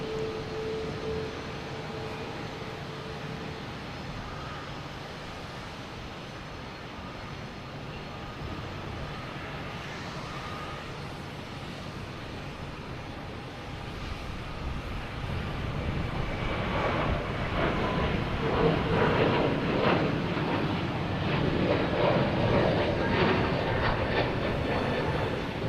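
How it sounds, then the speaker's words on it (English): A United Airlines Airbus A320neo takes off at Boston Logan, a low engine rumble that swells and roars louder in the second half, heard from a distance with no talk. "we got United Airlines taking off an A320 Neo heading to Denver"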